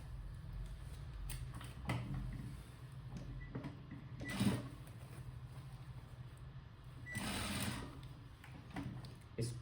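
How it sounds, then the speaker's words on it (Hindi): A sewing machine stitches a work blouse, a steady low mechanical whir running throughout at moderate level, with a few brief louder bursts and clicks along the way. "इस पे बहुत ही ध्यान से सिलाई लगानी है हमें"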